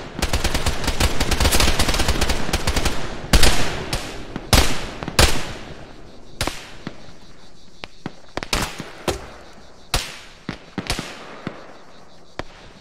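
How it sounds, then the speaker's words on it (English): Gunfire in a military helicopter assault game: a dense burst of loud automatic fire, then scattered sharp single shots and short bursts spaced out over the rest of the scene, with no talk. "He's shooting at me."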